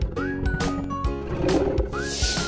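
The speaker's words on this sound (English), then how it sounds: "A lion in the wild." A lion in the wild gives a couple of rough roaring calls mixed with a tonal music bed, close and fairly loud.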